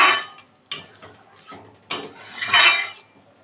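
A spoon scrapes and clinks against a pan while egg curry with chopped coriander is mixed in, giving a few separate metallic taps and a longer scraping swirl near the end, with no talking.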